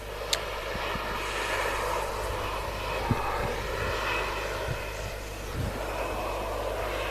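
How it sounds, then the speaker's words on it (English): An aircraft on approach at Manchester Airport in wet weather, a steady low engine drone and broad whooshing rumble holding level throughout, with a few faint knocks nearby. "Another aircraft on approach as well."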